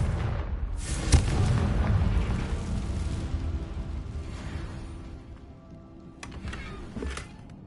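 Confringo blasting spell detonating in Hogwarts Legacy, a loud burst with a sharp crack near the start that rolls into a long rumbling roar, then fades before a couple of smaller pops near the end.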